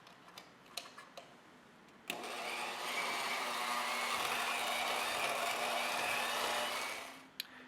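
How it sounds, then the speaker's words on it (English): An egg beater mixer whirs steadily for about five seconds, smoothing investment mix for casting, after a few light clicks and taps; the motor hum starts abruptly and winds down at the end. "we're going to do that with a simple egg beater mixer."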